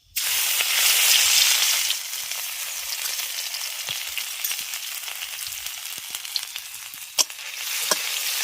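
Crushed ginger and green chili frying in hot oil, a loud continuous sizzle close by with a few sharp pops and utensil taps toward the end, no talking.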